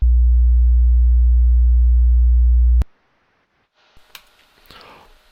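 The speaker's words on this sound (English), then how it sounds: "On the top track, I've recorded a 60 Hz sine wave" A pure 60 Hz sine wave played back in Audacity, a loud steady low hum for almost three seconds that cuts off abruptly, followed by silence and then a few faint clicks.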